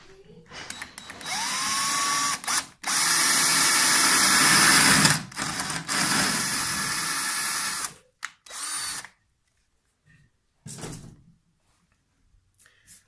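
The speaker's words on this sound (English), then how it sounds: "I'm going to do is drill a hole in each corner" Power drill boring holes into the corners of a wall opening to hide wires, in several loud sustained bursts with short pauses between, then brief quieter bits and near silence at the end.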